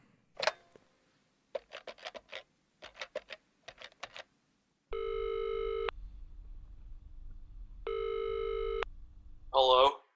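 Telephone ringback tone for an outgoing call: two long steady electronic rings with a pause between, preceded by a few short clicks and taps and followed by a voice answering.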